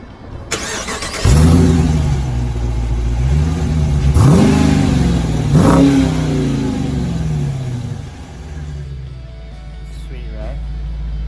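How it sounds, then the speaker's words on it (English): A car engine starts and idles, then revs up sharply twice with rising whines before settling, loud and close throughout, with a person talking faintly over the engine. "Check out the sound of this."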